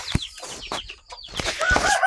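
Backyard chickens in a small flock cluck in short, scattered bursts with brief pauses, close by and moderately loud, with a few higher squawks and no talk.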